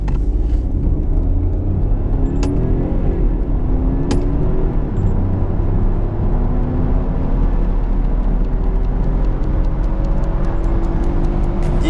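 A BMW F30 318i with 136 hp accelerates from 0 to 100, its engine roaring loud and steady from inside the car as the drone climbs in pitch, with a deep road rumble underneath and a few brief clicks.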